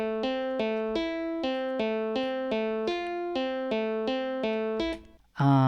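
A clean, unprocessed guitar plays a steady run of evenly spaced plucked notes, each ringing with bright overtones, alone and upfront, before a brief drop and a sharp final burst.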